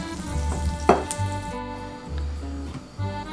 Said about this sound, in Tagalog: sautéing all our chicken